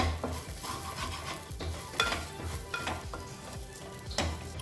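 Rice frying with grated coconut and masala for Malabar coconut rice is stirred in a pan, with a steady sizzle beneath repeated scraping strokes of a spoon against the metal, close and moderately loud.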